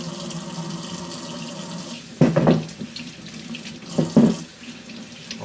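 A kitchen tap runs in a steady stream into a sink while unpeeled carrots are washed for a juice extractor, and two louder splashing bursts come as the carrots pass under the flow.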